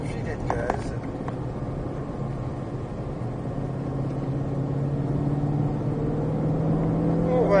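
Mustang Shelby GT500 with a 760 hp engine holds a low, steady rumble on light throttle, droning evenly and gradually building slightly, with a brief click near the start.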